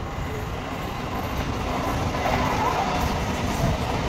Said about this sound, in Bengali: যা ট্রেন চলে গেল